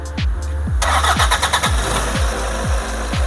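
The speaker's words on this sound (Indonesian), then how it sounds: "Langsung aja kita hidupkan mesinnya." Toyota Hilux common-rail diesel engine starts up and settles into a steady, loud idle with regular rhythmic pulses, close by, no talk.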